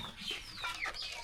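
Village chickens cluck repeatedly nearby, pecking around potato pieces they mistake for food, in short, busy bursts over outdoor background noise.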